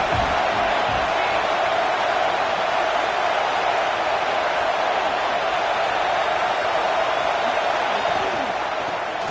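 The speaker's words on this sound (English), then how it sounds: "This crowd trying to make life miserable for this offense." A dense, continuous roar from a packed football stadium crowd at a Michigan versus Michigan State game fills the whole stretch at steady, loud volume.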